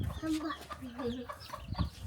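Chickens cluck on a farm, a few close, soft, quick clucks with low background noise and a faint voice underneath.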